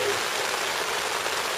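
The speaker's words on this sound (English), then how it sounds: "First day of our holiday and it's raining already." Rain falls steadily on a camping tent, a dense close hiss of drops drumming on the fabric without pause.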